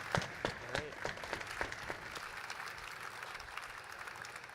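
A conference audience at JuliaCon 2024 applauds in a soft, fairly distant patter of clapping that holds steady throughout, with a few sharper claps near the start and some voice underneath.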